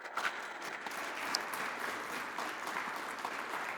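Steady applause from a crowd, a dense wash of many hands clapping that holds evenly throughout.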